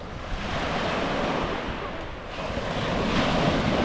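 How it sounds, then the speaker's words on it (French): Waves rolling in on Lac Saint-Jean, a large brownish lake, with gusty wind buffeting the microphone: a loud, continuous roar of surf that swells and eases slightly. "C'est un grand lac, il y a beaucoup de vagues."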